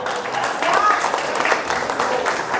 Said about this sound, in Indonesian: Aplaus dulu ya.